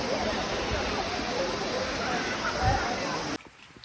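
Broadband rushing roar of the Wailele waterfalls in Hawaii holds steady and loud, with a voice faintly mixed in, before cutting abruptly to near quiet at the end.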